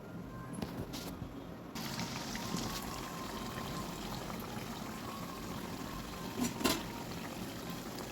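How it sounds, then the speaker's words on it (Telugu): Corn and jaggery fritters deep frying in hot oil, with a steady bubbling, boiling-like hiss and a couple of brief sharp clinks. "ఇప్పుడు దీన్ని గారెల్లా చేసుకొని డీప్ ఫ్రై చేసుకోవాలి"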